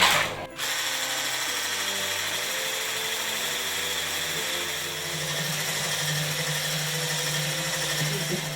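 Electric mixer whipping a powdered-sugar glaze for an Easter paska, a steady loud whirring drone that starts after a brief pause and runs continuously close by.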